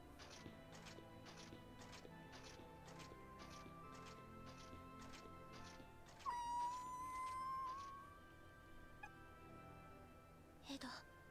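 A cat meows in the video game Fullmetal Alchemist 3, one drawn-out call rising over steady game music and ambience, with a short sharp sound near the end.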